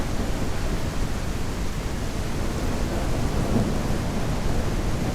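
Thunderstorm in the Ranch Simulator video game: a dense, continuous roar of rain with low rumbling thunder underneath, steady and fairly loud throughout, with no voices.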